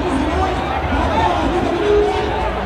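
A crowd at a Modi election rally in Varanasi, Uttar Pradesh, makes a steady dense babble of many voices and movement, loud and close, with no single speaker standing out.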